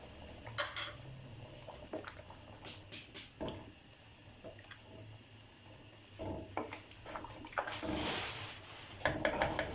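Water boiling in a cooking pot for rice pulao gives close bubbling and gurgling in bursts, along with clinks and scrapes of metal pot and utensils, and a hiss of steam building near the end.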